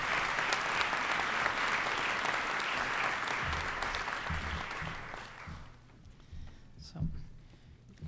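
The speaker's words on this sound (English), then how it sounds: "round of applause" Applause from a school audience for the 8th grade class at its closing exercises, a full wash of clapping that fades out after about five seconds, leaving low murmur and scattered thumps.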